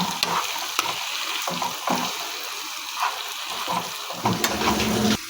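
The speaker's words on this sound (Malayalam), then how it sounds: "നമുക്കിതിലേക്ക് തക്കാളി ഇടാം. എന്നിട്ട് നമുക്ക് ഇളക്കി കൊടുക്കാം." Tomatoes and onion fry in a pan for a chicken curry, giving a soft sizzle with repeated scraping stirs and light clinks at an irregular rhythm, close by and with no talking.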